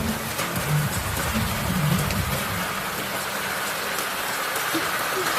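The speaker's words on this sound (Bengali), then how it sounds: "আর এত বৃষ্টি পড়েছে আর আমার খুব মজা লাগছে" Heavy rain falls steadily as a dense, continuous hiss close by, with a faint low rumble beneath and no voices heard.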